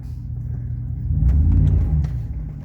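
A truck engine fitted with a cherry bomb exhaust revs once, swelling from a steady rumble to a louder, throatier peak and then easing back, close by with no talk.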